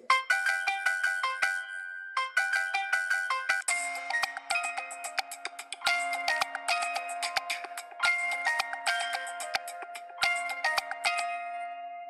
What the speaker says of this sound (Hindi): मैं अभी एक रिंगटोन को क्लिक कर रहा हूँ फ्रेंड जो मुझे पसंद है